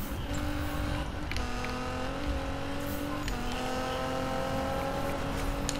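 A Nissan GT-R in the Need for Speed racing game drones steadily with a loud, continuous engine note, its pitch climbing and shifting through gear changes with no talk over it.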